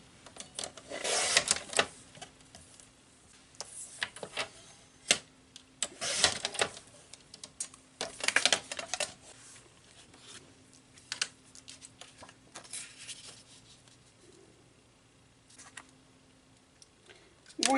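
Scissors trimming paper cutouts for a hand-stitched page, a series of short crisp snips and rustles in irregular bursts, separated by quiet pauses.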